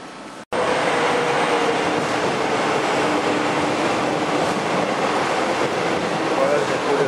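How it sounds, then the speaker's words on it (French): A Paris metro train rolling through a station or tunnel, a loud, steady rushing roar with rail rumble that starts abruptly after a brief thump and stays constant, close by. "Voilà le métro de Paris."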